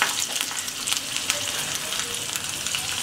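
Green chillies fry in hot oil in a small tempering ladle, giving a close, steady crackling sizzle with fine pops throughout.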